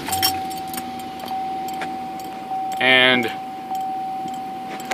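A 2006 Cadillac CTS-V cranks and fires up briefly after keys jangle in the ignition, with a steady dash chime tone running throughout and a voice speaking at the start.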